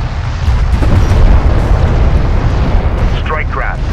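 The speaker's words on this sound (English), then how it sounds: "Strike craft destroyed." A strike craft blows up in Homeworld: Deserts of Kharak, a loud, dense rumbling blast that rolls on steadily with a few brighter pops near the end and no speech over it.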